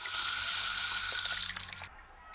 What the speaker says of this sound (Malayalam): അപ്പം നമുക്ക് ഇനി ഇതിനകത്തേക്ക് വെള്ളം നിറച്ച് കൊടുക്കാം